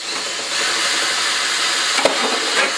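A drill bit turns into a pilot hole during final assembly of a Tamiya TB04 LaFerrari RC car, a steady close grinding whir that runs without a break, with a brief click near the end.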